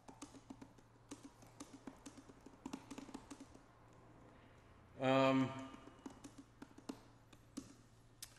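Keys tapped on an iPad Pro M4 Magic Keyboard for the 13-inch iPad Pro, giving a quiet, uneven run of light clicks near the microphone, with a brief louder tonal burst midway.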